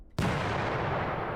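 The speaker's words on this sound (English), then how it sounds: "Yeah, it's an explosion." A sudden, loud explosion from a tabletop game session bursts in after a brief quiet moment and rolls on as a dense, sustained roar through the rest of the clip.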